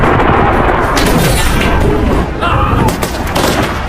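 Gunfire crackles in an action film battle scene as Turkish troops fire on surviving ISIS terrorists after an explosion, loud rapid shots and bursts layered over a dense roar of combat.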